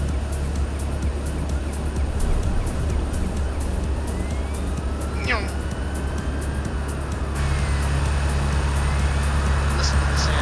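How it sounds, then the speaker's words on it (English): A bus engine in the OMSI 2 bus simulator video game drones steadily throughout, a dense continuous low rumble with a rising whine partway through and a deeper tone joining later, loud and unbroken. "Listen to the sound of that engine."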